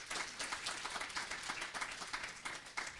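A church congregation claps their hands together in steady, dense applause, a broad wash of many overlapping hand claps lasting a few seconds with no talking.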